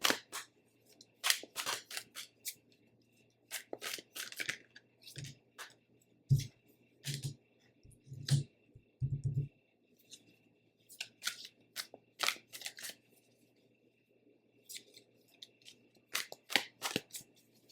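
Tarot cards shuffled by hand in a quiet room, a series of crisp riffling and flicking bursts in short clusters with pauses between, close and fairly soft, with a few low thumps in the middle.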